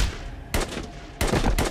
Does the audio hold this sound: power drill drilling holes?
no